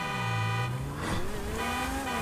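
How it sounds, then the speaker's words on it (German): In the video game GTA 5, a car horn sounds in steady tones layered over a droning engine, with engine pitch sliding up and down as the vehicle drives, all fairly quiet and without talk. "Wenn ich auf den Joystick raufdrücke, dann geht die Hupe an."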